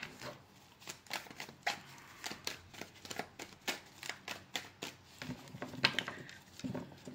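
Tarot cards of the Marseille deck being shuffled by hand, a steady run of soft riffling flicks and slaps, close and fairly quiet, with no voice over it.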